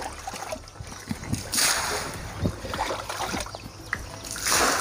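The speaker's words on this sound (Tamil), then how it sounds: "இந்த மாதிரி கப்பில் மோந்து ஃபுல்லாக சுற்றி நீங்கள் வாட்டுக்கு ஊற்றி விட்ருங்க" Water scooped with a cup and poured around the edge of a biofloc fish tank, giving repeated close splashes and trickles in uneven bursts, with no voices.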